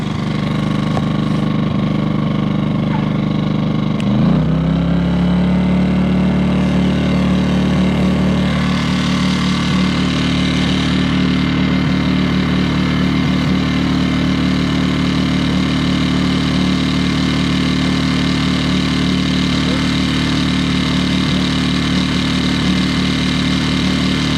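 A 2000 watt generator taken off economy mode revs up from a steady idle into a louder, higher, constant engine drone that holds near and loud for the rest of the run.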